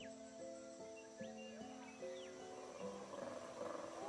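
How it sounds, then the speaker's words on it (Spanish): Deep, drawn-out roaring calls of male colobus monkeys in forest at dawn, layered sustained tones rising and falling in steady overlapping bouts, moderately distant amid a faint ambient backdrop. "Al amanecer se escucha el rugido de los colobos machos."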